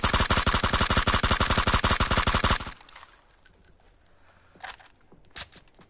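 Rapid automatic gunfire from the video game PUBG, a fast even burst of shots lasting under three seconds, loud and close. It cuts off into quiet with a couple of faint clicks and thumps after.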